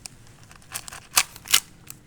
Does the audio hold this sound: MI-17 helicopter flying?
no